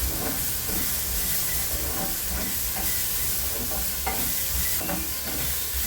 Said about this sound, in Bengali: এই ভুট্টাটাকে ভেজে দিয়ে